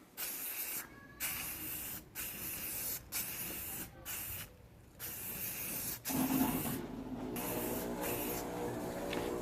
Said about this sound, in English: this is the primer that I'm using, Rust-Oleum primer, self-etching primer